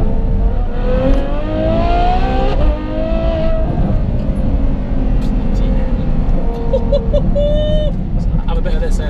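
Novitec N-Largo Ferrari F12 V12 engine revving, a rising and falling high-pitched howl that sustains loudly throughout, with talking over it.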